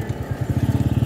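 Motorcycle passing on a busy street: a close, loud engine putters with a fast, even pulsing throb that quickens toward the end, no talking.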